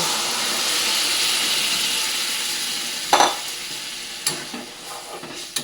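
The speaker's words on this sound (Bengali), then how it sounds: "এবার সেদ্ধ করে রাখা ডালটা নিয়ে দিয়ে দেবো" Boiled dal tipped into a pan of sautéed ginger and green chilli spice paste; a steady hiss of sizzling runs alone, then a burst of splattering as the dal goes in, followed by a few smaller crackles.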